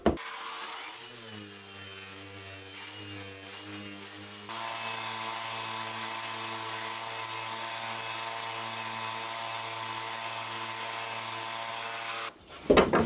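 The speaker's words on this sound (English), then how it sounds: "Now I'm going to give them all a sand down." Power sander working over small wooden display stools, a steady droning whine that steps up louder midway and holds constant for several seconds before cutting off, with no talking.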